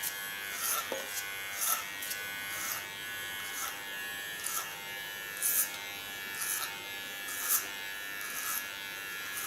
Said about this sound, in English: With my comb I guide the hairs into the clipper.